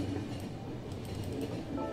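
A train rolls along in The Final Station, a steady low rumble with faint, regular rail clatter running throughout at moderate volume, with no talking.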